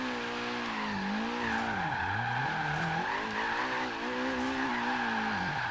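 Tire squeal from a Nissan S14 drifting in Forza Horizon 3, a loud wavering screech over a steady engine drone that sweeps up and down with the slides, continuous throughout with no voices.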